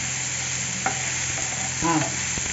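Tomatoes softening in a pan for chicken chukka fry a steady close sizzle with a low hum, broken by a couple of short scraping stirs near the middle and end.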